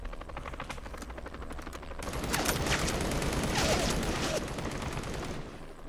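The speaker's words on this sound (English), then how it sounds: "They are shooting from the outside." Heavy automatic gunfire rattles in the VR game Crisis on the Planet of the Apes, shots coming from outside, a steady crackling barrage that swells louder after a couple of seconds and keeps up with no talk.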